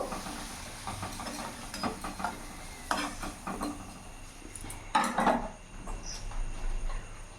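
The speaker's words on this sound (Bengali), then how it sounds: "আলুটা লাল লাল করে ভেজে নিয়েছি, এবার নামিয়ে ফেলবো" Potato pieces browning in hot oil in a pan, a continuous hiss and crackle with bursts of stirring and metal spatula scrapes on the pan, close and fairly steady throughout.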